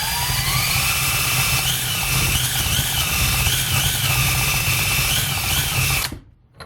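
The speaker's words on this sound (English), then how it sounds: "Now when I spin the alternator, I should see the light go out, and I should see the current reverse." An alternator spun by a power tool on the bench, converted from an internal to an external regulator, whines loud and steady like a drill for about six seconds, then cuts off abruptly.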